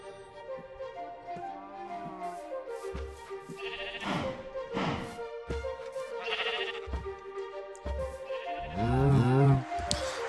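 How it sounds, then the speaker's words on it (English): Cows in the Minecraft 1.4 video game give several moaning, huffing calls one after another. They are close and clear, with no talking over them. "As far as like cows, the cows noise got updated, so if you guys can hear this"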